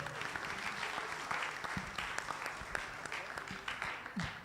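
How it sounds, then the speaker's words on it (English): Applause from a conference audience at an awards ceremony. It is a dense patter of many hands clapping, moderately loud, and carries on steadily throughout. "Can I hear one more applause?"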